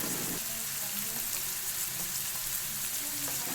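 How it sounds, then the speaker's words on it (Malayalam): Chicken pieces fry in oil over a medium flame while a batch cooks for chicken kondattam, a close, continuous crackling sizzle that holds steady throughout with small pops rising above it. "ഇനി ഇതുപോലെ ബാക്കി ബാച്ചസും കൂടി നന്നായിട്ട് ഫ്രൈ ചെയ്തെടുക്കാം"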